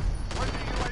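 Quiet, distant bursts of gunfire from teammates in a Call of Duty match, a scattered crackle of shots without speech.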